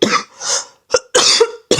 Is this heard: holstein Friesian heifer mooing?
no